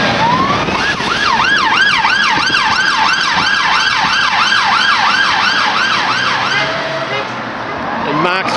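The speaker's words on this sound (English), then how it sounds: "Need a siren." Police car siren wailing in a repeated rising-falling cycle on a town street, loud and fairly close, with road traffic underneath before it cuts off.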